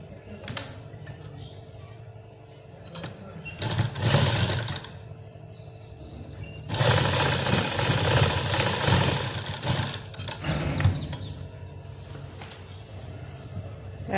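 Sewing machine stitching around a salwar waistband, bursts of rapid mechanical clatter starting and stopping, with a long steady run in the middle and light clinks between.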